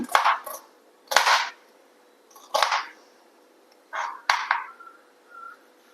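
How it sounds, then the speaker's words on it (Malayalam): A knife chops onions in sharp, separate strokes, about five short bursts spaced irregularly. Each stroke is close and crisp, and there is quiet between them. "നമുക്ക് സവാള എടുക്കാം അങ്ങനെ ചെറുതാക്കി അരിയൊന്നും വേണ്ട കേട്ടോ ഇങ്ങനെ അരിഞ്ഞു"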